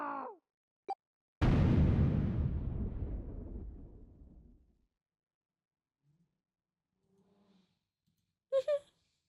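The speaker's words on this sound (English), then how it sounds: "The explosion rocked the room." An explosion in the video game Zero Escape: 999 hits suddenly after a brief voice, a loud low boom that rumbles and fades over a few seconds, followed by faint small sounds and a short voice.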